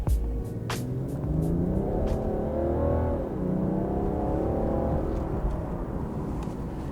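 A BMW 6 Series Gran Coupe diesel accelerates hard, its engine rumble climbing steadily through several gears with a brief shift dip midway, loud and close throughout with no talking.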